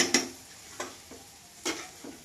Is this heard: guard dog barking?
no